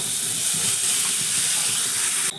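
Vegetables hitting a hot pan with fried ginger give a loud, steady hiss of frying that holds evenly throughout and cuts off sharply right at the end.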